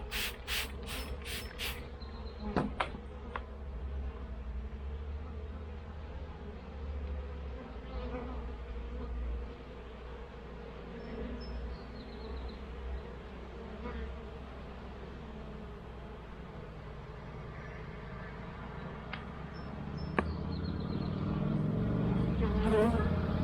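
Honey bees buzz steadily around a small queen mating nuc hive, a dense continuous drone close to the microphone that swells slightly louder near the end, with a few sharp clicks early on.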